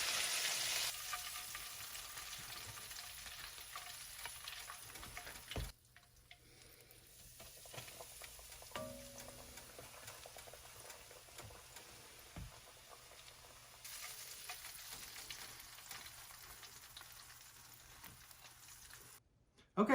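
Shrimp deep frying in hot oil make a soft, continuous bubbling hiss that stays faint, dips to near quiet partway through, then returns.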